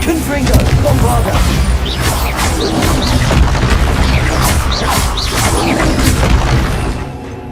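Spell explosions from Bombarda and Confringo in the Hogwarts Legacy video game, a dense run of booms and crashing bursts that fill the whole stretch loudly, with a voice talking over the din.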